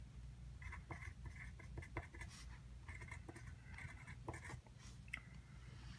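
Pen scratching across paper while writing out a short word, a series of quick, close strokes and taps over a steady low room hum.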